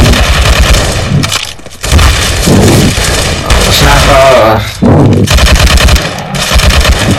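Rapid gunfire from Counter-Strike: Global Offensive, dense bursts of shots crackling loudly almost nonstop with two short pauses, mixed with game effects and some voice chatter.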